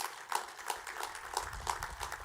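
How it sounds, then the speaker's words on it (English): Several people applaud with scattered, uneven claps at a moderate level at an ROTC commissioning ceremony, a low rumble running underneath. "And give his family a round of applause also while you're at it."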